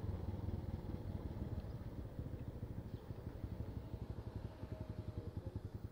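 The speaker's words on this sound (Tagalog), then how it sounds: "Ay, nandito ang motor ni." A motorcycle engine idles close by with a steady, rapid putter that grows into a more distinct pulsing chug, fairly quiet, with no talk.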